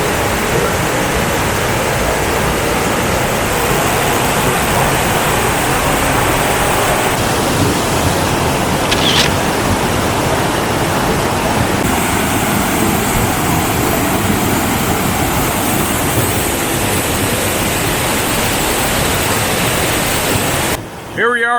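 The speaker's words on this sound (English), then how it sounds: "Here we are at the base of Lick Log Falls and the Chattooga River." Lick Log Falls, a waterfall on the Chattooga River, heard from its base as a loud, steady broadband roar of falling water that continues without pause, close and enveloping.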